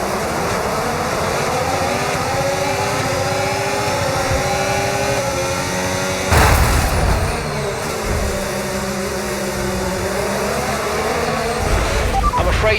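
In the F1 25 video game, an F1 race car pulls away from the start with a sustained, loud engine roar. Pitch sweeps rise through the gears, and a sharp surge arrives midway as the field accelerates together.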